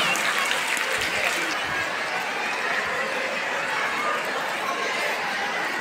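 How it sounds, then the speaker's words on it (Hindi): Audience applause at a school annual function at Sai Public School, a dense, steady clapping from a large crowd sustained throughout, with faint chatter mixed in. "एक जोरदार तालियों से स्वागत करेंगे दर्शकों का"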